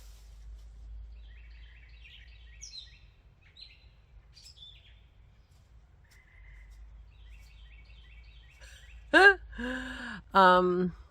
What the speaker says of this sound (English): Listen to my birds.